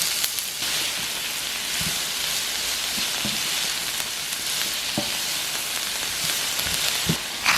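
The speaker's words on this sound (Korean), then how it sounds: "살짝 달궈진 팬에 오일 1큰술 넣고 채 썬 양파를 넣어 볶아주세요." Sliced onion stir-frying in a tablespoon of oil in a lightly heated pan gives a steady, close sizzle throughout, broken by occasional soft scrapes and taps of stirring.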